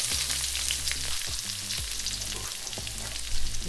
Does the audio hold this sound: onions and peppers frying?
yes